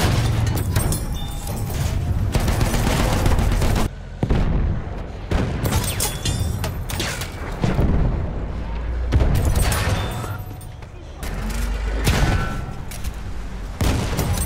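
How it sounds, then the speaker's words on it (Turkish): Bursts of machine-gun fire in Battlefield 1 crackle loudly and continuously, broken by booms and explosions, with brief pauses between volleys and no clear talk. "Makinalı tüfek."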